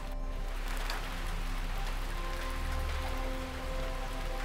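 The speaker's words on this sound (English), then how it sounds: "Rain." Steady rain patters on a surface in Ljubljana, Slovenia, a dense continuous hiss close by with a low background hum and no voices.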